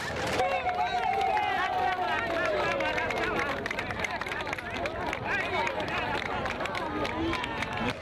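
A crowd in Gawa, Burkina Faso greets the country's president during a walkabout, a dense continuous hubbub of many voices, shouts and scattered clapping heard close by, with a long rising and falling cry near the start.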